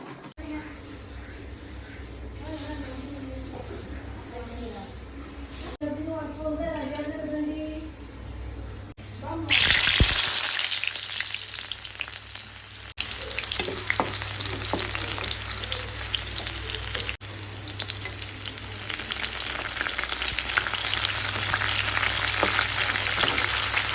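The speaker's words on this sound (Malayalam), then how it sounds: "നമ്മളെ സംഗതി ഇവിടെ പൊരിക്കുന്നുണ്ട് നല്ല അടിപൊളിയായിട്ട്" Food sizzles and fries in a pan for a Kerala-style home cooking session with fish and prawns, a steady loud crackle that swells midway and carries on continuously, with a voice talking over the first part.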